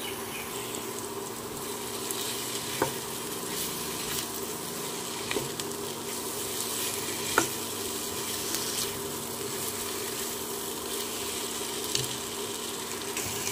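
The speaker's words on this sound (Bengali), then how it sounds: "মশলা কষানো হয়ে গেছে, ভেজে রাখা আলুগুলো দিয়ে দেব।" Fried potatoes stirred into sizzling masala for katla fish kalia, a steady crackling fry with a few sharp clinks of a spoon against the pan, close and alone with no voices.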